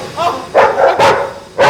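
A dog barks four times in irregular bursts, close and loud, each bark short and sharp with a slightly whining edge.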